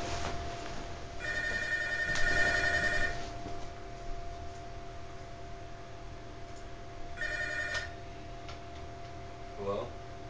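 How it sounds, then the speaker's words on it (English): A telephone rings in Punch-Out Wii, two bursts of a bright electronic trill a few seconds apart, faint ticking and game sounds running underneath. "The phone's ringing now?"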